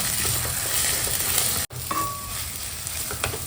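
Ginger garlic paste hitting hot oil with frying potatoes for Gujarati-style pakoda, giving a steady loud sizzle that breaks for an instant and then resumes, alone without talk.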